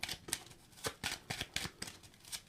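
Deck of tarot cards being cut and handled: a quick series of crisp papery riffles and flicks in an irregular rhythm, soft and close, with no talk.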